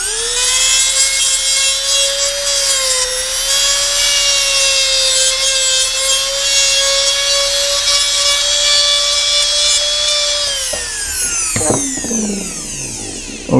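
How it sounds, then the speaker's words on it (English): A small egg-shaped dental burr cuts the collar off a pontic: a loud, steady high-pitched whine rich in overtones holds for about ten seconds, then winds down with falling pitch as the handpiece slows near the end. "I'm going to take a burr. This is just a little egg-shaped burr, and I'm going to cut the collar off."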